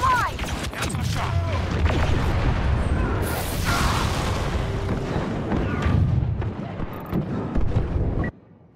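A heavy grenade explosion in a Star Wars battle video game booms loudly amid steady combat noise, followed by a rumbling roar that cuts off abruptly near the end.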